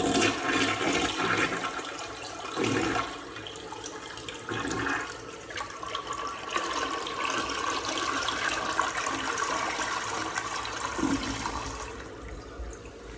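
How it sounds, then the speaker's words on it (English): A used household toilet flushes with a loud, steady rush of water that carries on for over ten seconds before tapering off, heard close up with no voices. "So now I will give y'all guys a flush."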